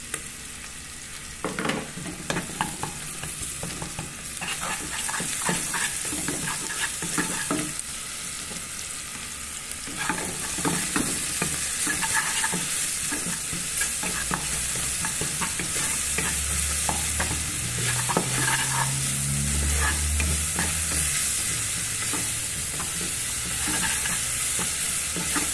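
Garlic fries in a pot for a bean stew with vegetables and meat, giving a steady close sizzle with scattered spoon scrapes and stirring clatter throughout.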